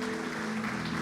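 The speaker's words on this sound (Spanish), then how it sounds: "Vamos a darle un aplauso al Señor." Congregation applauding during a Spanish-language Sunday church service, a short steady wash of clapping with a sustained tonal hum, likely music, underneath.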